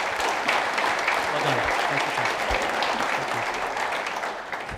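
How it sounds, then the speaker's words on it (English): Conference audience at a riverway summit clapping for a university river stewardship group, sustained dense applause filling the whole stretch while a voice speaks briefly over it. "Another round of applause for the River Stewards from the University of Dayton."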